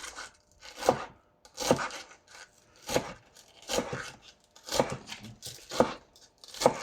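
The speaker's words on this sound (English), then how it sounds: "So I've decided just to chop the whole of them onions." Spring onions being chopped with a knife, seven crisp, evenly spaced cuts landing on a board about once a second, close and fairly loud with no talking.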